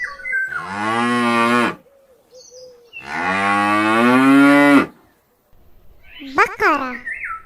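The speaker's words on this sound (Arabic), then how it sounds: "بقرة." Two long, loud cow moos from farm cattle, each lasting over a second with a pause between, followed by a brief higher squawking call near the end.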